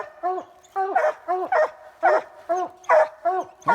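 Coon hunting dogs bark at a tree during a night hunt, loud repeated bawling barks from more than one dog in a steady, uneven rhythm, close and clear with no talk over them.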